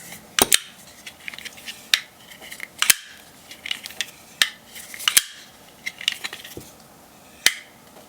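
Titanium Custom Knife Factory Marauder folding knife, its blade dropping closed over and over: a series of sharp, close metallic clicks and snaps spaced about a second apart, heard alone.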